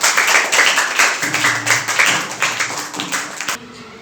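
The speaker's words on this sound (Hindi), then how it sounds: "बजाइए इनके लिए ताली" A school class applauds a student in a math lesson, with loud, close clapping from many hands that swells and then thins into scattered claps before stopping abruptly near the end.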